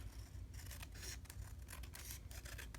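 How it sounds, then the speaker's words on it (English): Scissors trimming paper during a home craft session, a steady run of soft snipping and rubbing strokes close by, fairly quiet and continuous with no talking. "Maybe I'll just use scissors on this side."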